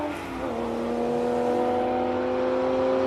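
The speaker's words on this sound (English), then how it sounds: "Yo, that Porsche is sounding tremendous." A classic Porsche race car at a hillclimb, its engine holding a loud sustained howl that rises slightly in pitch as it accelerates, heard from fairly close by for a few seconds.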